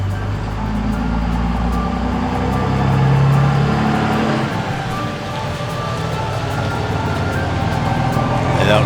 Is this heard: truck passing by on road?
yes